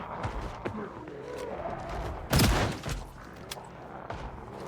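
Gunfire in the zombie survival game Project Zomboid: one loud, close blast stands out amid smaller scattered thumps and clatter, followed by quieter game ambience.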